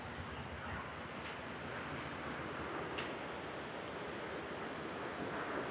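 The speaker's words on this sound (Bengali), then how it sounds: "নদীতে ঢেউ চলেই যাচ্ছে" Sea waves at Lebur Char beach in Kuakata wash in with a steady, faint, distant surf rush, with light wind and no voices.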